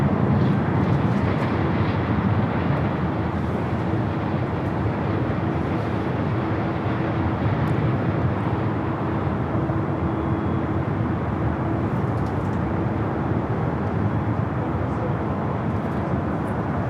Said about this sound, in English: I'm showing you the planes as they come and go throughout the course of the day